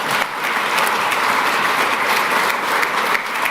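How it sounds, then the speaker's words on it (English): An audience at a Google investment announcement in Nebraska applauding as Congressman Don Bacon comes up, a dense, loud, sustained round of clapping from a crowd. "So let's bring him up with a nice round of applause."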